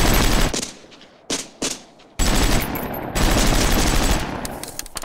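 Covering fire during a wartime battle in the Ardennes forest: loud, close bursts of automatic gunfire that break off briefly, resume, then roll on as sustained rapid shooting.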